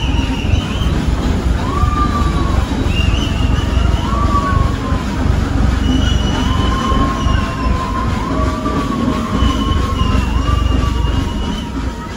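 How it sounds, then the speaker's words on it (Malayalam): The Nilgiri Mountain Railway heritage train rolls into Hillgrove station with a loud constant rumble, wheels squealing in long high wavering tones as the carriages grind along the rails. "ട്രെയിൻ ഹിൽഗ്രൂവ് സ്റ്റേഷനിലെത്തി."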